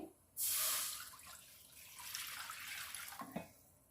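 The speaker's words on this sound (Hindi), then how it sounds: "पैन में सबसे पहले पानी डाल देंगे।" Water gushes into a cooking pan with a sudden start, splashing and running steadily for a few seconds before tapering off into drips.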